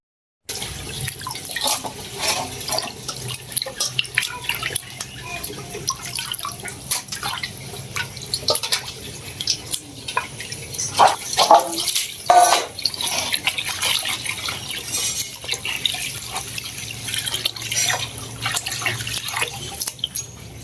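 Rain falling as dark clouds roll in, a steady wet patter and dripping throughout with a slightly louder burst of drops midway, no talking.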